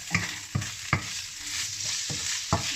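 Fatty pork browning in its own rendered fat for pinakbet, a continuous close sizzle with several sharp stirring clacks of a utensil against the pan, no talking.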